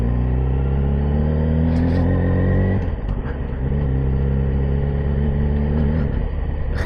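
A Yamaha R6 sport motorcycle engine hums steadily at low revs while riding downhill, then the pitch drops midway as the throttle eases into engine braking, close and loud throughout.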